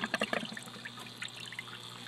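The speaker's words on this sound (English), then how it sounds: "So you can see how the water is pumped in from the top," Water trickles and splashes through the PVC plumbing of a Dutch bucket hydroponic setup, pumped in from the top and draining back to a nutrient reservoir, a soft, close burble over a steady pump hum.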